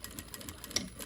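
A sewing machine back-stitches fabric for a trick-or-treat bag: a short, faint burst of quick, evenly spaced needle pulses, heard alone.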